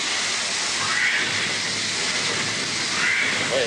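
A steam locomotive starting, its regulator sending steam into the cylinders, heard as a loud, continuous broadband hiss close by with faint tonal traces and no talk.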